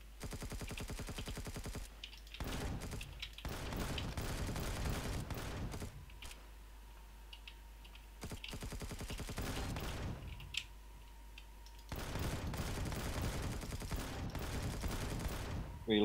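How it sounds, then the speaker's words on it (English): Rapid gunfire rattles in the video game Empyrion, several long bursts of fast automatic shots with short quiet gaps between them, loud and close. "That's a gun dude."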